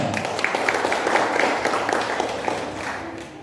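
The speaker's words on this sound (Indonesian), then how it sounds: "Tepuk tangan untuk kita semua." Gathered audience at a Christmas celebration applauding together, a moderate crowd of claps at medium distance that gradually fades toward the end.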